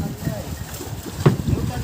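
A boat travels across the sea near Ulwe, Panvel, carrying visitors to a temple. A steady low rumble of engine and water is mixed with wind buffeting the microphone, and people can be heard talking nearby.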